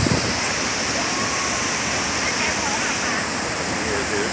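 Steady, dense rush of falling water at Multnomah Falls, Oregon, a broad continuous roar that stays even throughout with no breaks.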